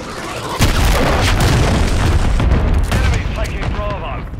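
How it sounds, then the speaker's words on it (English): A cruise missile strike booms in Call of Duty: Modern Warfare III multiplayer, a loud rumbling blast with scattered gunfire and crackling debris that rolls on for several seconds before easing. "Hostile launched a cruise missile."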